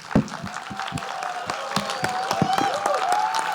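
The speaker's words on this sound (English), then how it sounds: "please stand up and give a big round of applause to Shri Ramesh Sippy ji" An audience at a film masterclass claps in a scattered, uneven patter, with crowd murmur and a sustained musical tone running underneath.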